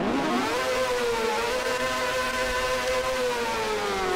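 A car engine in the Roblox video game revs steadily, its rising and sustained harmonic whine loud and continuous throughout, with no talk over it.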